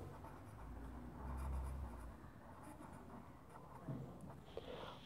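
Pen or pencil writing numbers by hand on paper, a faint, close scratching with soft irregular strokes, quiet and alone without talk.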